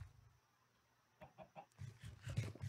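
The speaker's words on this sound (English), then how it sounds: "We have trapped some chickens." Chickens clucking in a modded Minecraft game, a few short soft clucks in the first half building into a denser, louder burst of clucking toward the end, with no talk.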